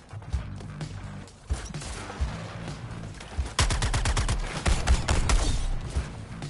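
Rapid gunfire in Suicide Squad: Kill the Justice League, with dense bursts of close automatic shots that swell into a sustained, loud volley amid game action noise.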